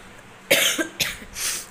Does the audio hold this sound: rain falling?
no